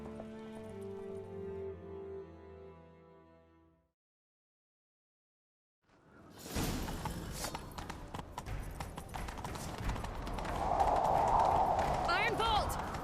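Horse galloping through a castle setting in The Witcher 3, with fast rapid hoofbeats building after a musical intro and a brief silence, loud and continuous over game sounds with voices speaking.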